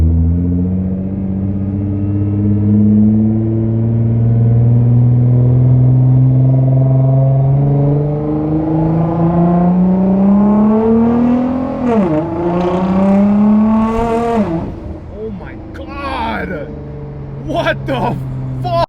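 Widebody Nissan GT-R running on ethanol accelerates hard from inside the cabin, the engine note climbing steadily in pitch through the revs with a couple of gear changes, then dropping back toward a lower drone.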